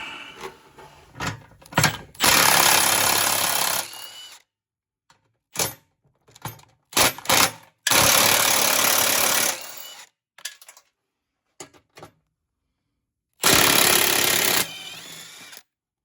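An 8mm power driver runs in three long, loud bursts, backing screws out of the fog light mounts on a 2011 Ford F250 front bumper, separated by brief clicks and handling clatter.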